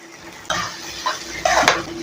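Chopped tomatoes go into a hot frying pan for chicken gravy and are stirred, a low hiss with two bursts of sizzling and clinks of a spoon against the pan, close and brief.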